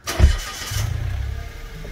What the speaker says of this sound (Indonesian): Nyalin dulu ya mobilnya.